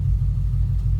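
A Ford Mustang GT with a 5.0 Coyote engine and a Gen 2 short block idles with a close, steady low rumble and a faint regular pulsing, though the tick itself is hard to make out.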